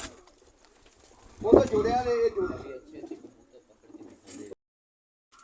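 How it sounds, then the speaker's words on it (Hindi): Pigeons coo on a rooftop loft, a short burst of soft cooing alongside someone talking nearby. "ये सारे प्रवासी कबूतर हैं जी।"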